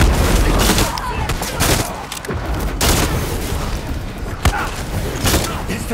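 Rapid bursts of gunfire in the video game Far Cry 6 crack and boom repeatedly, loud and close, with sharp shots scattered throughout.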